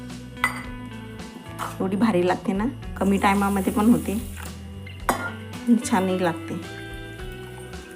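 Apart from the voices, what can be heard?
rinsing rice in water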